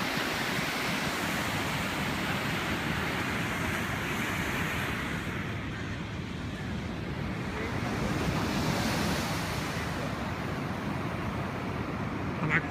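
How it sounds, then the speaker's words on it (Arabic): Sea waves breaking directly below the rooms of a seaside hotel, a continuous loud rush of surf mixed with wind buffeting the microphone, with no voices throughout. "وهنا البحر يعني تحت الغرف بالضبط يعني"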